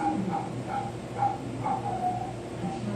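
A dog barks in short repeated yips, roughly every half second, faint and somewhat distant over a constant hiss of background noise.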